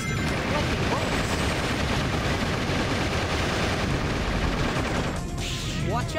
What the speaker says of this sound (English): The tank's barrier seems to be deflecting bullets.